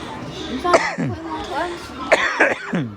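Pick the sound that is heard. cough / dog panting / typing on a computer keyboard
cough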